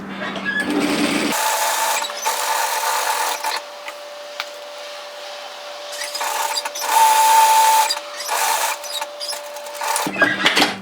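A sewing machine runs steadily while stitching a seam on a bomber-style varsity jacket, with a continuous mechanical whir, brief pauses and start-up bursts, and a faint whine.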